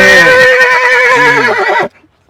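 A young horse gives one loud, close neigh lasting nearly two seconds with a shaky, wavering whinny that cuts off abruptly into silence.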